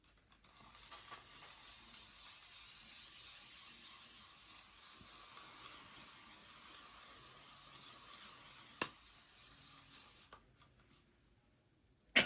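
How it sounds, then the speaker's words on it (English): Hairspray can released in one long continuous spray over hair set in rollers, a close, even hiss lasting about ten seconds before stopping, followed by near silence and a small knock at the end. "And I do quite a long spray,"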